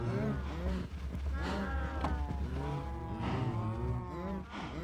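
Cows moo repeatedly in the Minecraft video game, overlapping low bellowing calls coming close together at moderate volume, with a constant low hum beneath.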